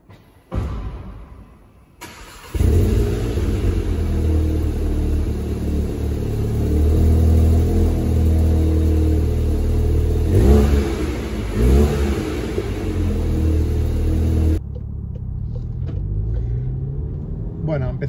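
Volkswagen Golf GTI 7.5 Performance with the 245 hp 2.0T FSI engine, heard while driving: a steady, loud engine drone that rises and eases through revs, with a voice talking over it throughout.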